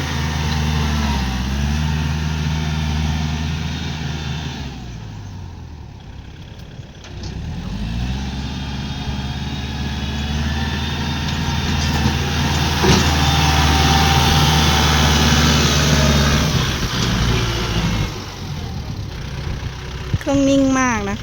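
Used Kubota L4708DT tractor engine running steadily close by, a low continuous diesel drone with a few dips in level and a brief rattle near the end.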